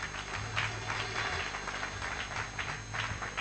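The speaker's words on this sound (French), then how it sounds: "Applaudissez un peu le Seigneur Jésus." A church congregation claps together in a sustained, even burst of applause, with a low sustained keyboard or organ tone underneath.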